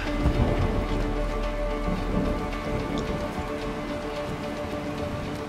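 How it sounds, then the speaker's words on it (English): Steady, dense rainfall pattering on surfaces in the video game A Way Out, continuous and fairly loud, with a faint low rumble underneath and no talking. "It's rainy"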